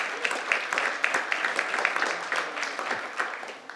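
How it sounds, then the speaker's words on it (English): An audience at the Geneva Peace Week 2021 closing ceremony claps steadily and warmly for several seconds, a dense, even wash of many hands in a hall, heard alone without speech. "You can give them a nice warm applause."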